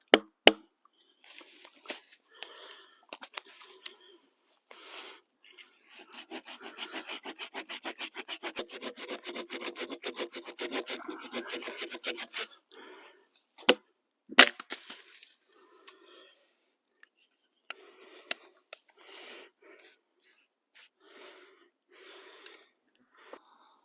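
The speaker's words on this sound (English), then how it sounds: "But you're safe as long as you keep batoning straight down in." A knife is batoned into dense fatwood, producing scattered sharp knocks and a long stretch of rapid, regular, close-up wooden tapping and scraping, with quiet gaps between bursts.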